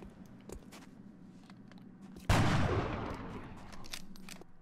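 A single loud gunshot cracks out in XCOM: Enemy Within, its burst trailing off over about two seconds against a quiet game background.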